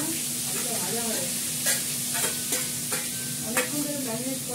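Meat added to a pan where potatoes are frying gives a steady sizzle with a few sharp clinks of stirring, close and moderately loud, no talking.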